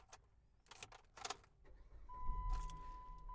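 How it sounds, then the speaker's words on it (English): Car engine being started inside the cabin: a few clicks and rustles, then a starter crank and the engine catching into a low rumbling idle with a steady whine, close and moderately quiet. "we're going to turn the car on, so it's going to get a little noisy in here"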